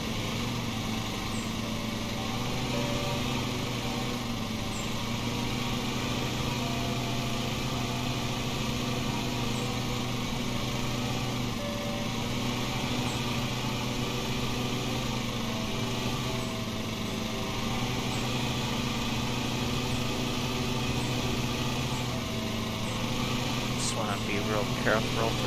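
A lawn mower engine drones steadily in the Lawn Mowing Simulator video game, a constant high-revving whine with harmonic layers, unbroken for the whole stretch.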